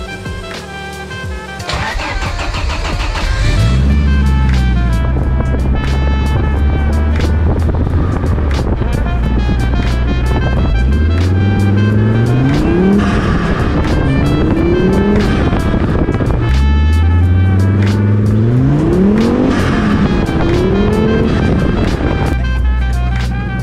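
A car engine runs and revs as the vehicle pulls away, loud and close, with repeated rising and falling engine pitch as it accelerates through gears, no talking over it.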